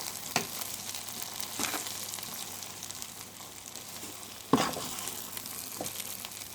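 Stuffed brinjal masala curry frying in a pan, a soft steady sizzle with a few sharper clinks and stirring scrapes, one louder knock near the end, no voices.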